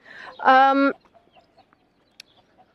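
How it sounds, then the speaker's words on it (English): A cockerel in the Greek countryside gives a single loud, close harmonic call lasting about half a second, followed by faint scattered outdoor sounds and a brief sharp tick. "there's another cockerel"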